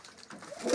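A single loud, close coo from a young yellow-eyed, black-beaked pigeon swells at the end of a brief moment, with soft rustling before it.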